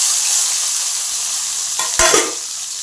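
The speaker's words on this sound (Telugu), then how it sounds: "ఈ టమాటాలు ఆయిల్లో వేయించుతున్నాను." About four chopped tomatoes fry in oil for a venkai chutney, giving a constant close sizzle. A sharp scrape or stir cuts in near the end.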